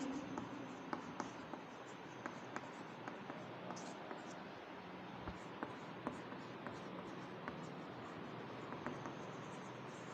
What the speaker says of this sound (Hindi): तो डेफिनेशन में हम लिखेंगे